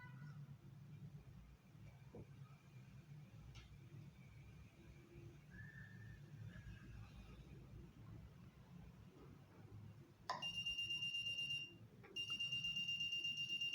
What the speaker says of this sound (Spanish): Suena la sirena algunos segundos.